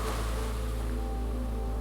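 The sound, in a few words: big ocean waves rolling onto the beach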